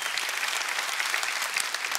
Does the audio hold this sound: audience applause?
yes